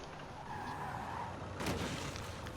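Tires of a Rimac Nevera skidding while drifting in Forza Horizon 5, a rough hissing screech building over the engine, with a sharp burst of scraping noise midway before easing back.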